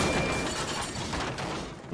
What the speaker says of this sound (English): Flour bent so hard the buffers smashed and splashed into the canal